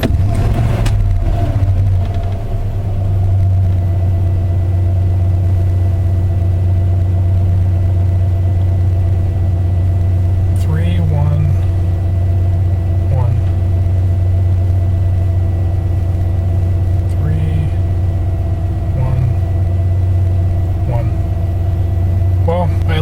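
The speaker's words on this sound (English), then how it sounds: "Just got done running the truck with the new vacuum canisters" A 1992 Ford F150 truck with an EEC-IV engine runs steadily at idle after new vacuum canisters were fitted, giving a loud, close, even rumble with a constant low hum and a few faint clicks over it.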